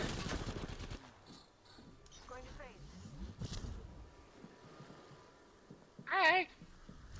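Gunfire in an online shooter game, with a burst of shots at the start and scattered pops later, fairly quiet beneath excited voice chat and other game noises.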